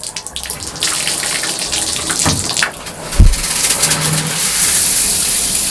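Water gushes loudly and steadily through a newly installed shower water filter, with a few splashy surges and a low thump as the flow is toggled.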